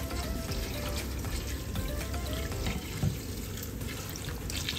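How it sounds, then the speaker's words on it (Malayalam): Water poured over tomatoes in a cooking pot for chicken dum biryani, a steady continuous splashing pour heard close and alone. "തക്കാളി മുങ്ങിക്കിടക്കുന്ന അതിൽ നമ്മൾ വെള്ളം ഒഴിച്ചു കൊടുത്തിട്ടുണ്ട്"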